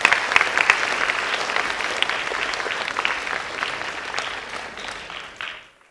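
Audience applause at a classical dance arangetram, a dense patter of many clapping hands filling the hall for several seconds before tapering off abruptly at the end.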